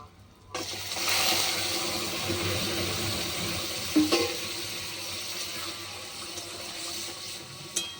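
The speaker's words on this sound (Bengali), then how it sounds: "ফোড়নটা ভাজা ভাজা হয়ে গেছে এবার আমি শাকগুলো ঢেলে দেবো" Jute leaf greens tipped into a hot tempering for a jute leaf curry, a watery hiss and sizzle that swells when the leaves land and settles into a steady close simmer, with a couple of clatters.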